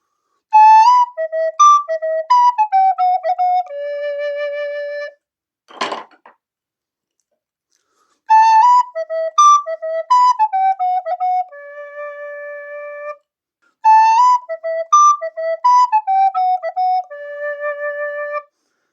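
A Moeck descant recorder plays a lively, tuneful Irish melody in three clear phrases, with a brief knock between the first two and short silences between phrases.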